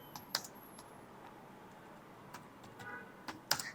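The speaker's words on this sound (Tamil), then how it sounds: "ஸோ இப்போ நம்ம ப்ரோக்ராம் வந்து டைப் பண்ணுறோம்." Java code being typed on a computer keyboard: sparse, soft key clicks with a few sharper taps, faint and close, with no talking.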